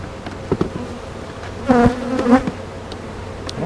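Honey bees drone from an opened hive box, a steady close hum with a few louder buzzes as single bees pass near, quiet in between.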